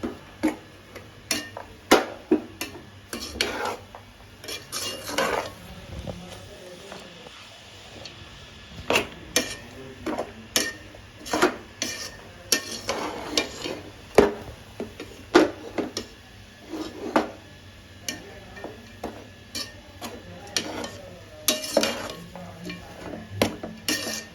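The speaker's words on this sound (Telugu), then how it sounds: "ఇప్పుడు దీన్ని మనం ఇలా మొత్తం అంతా మిక్స్ అయ్యేలాగా ఇలా రౌండ్గా మొత్తం మనం సెట్ చేసుకోవాలి" Uggani being stirred and mixed in a pan, with a long run of irregular metallic scrapes and taps from a spoon against the pan's sides and no talk.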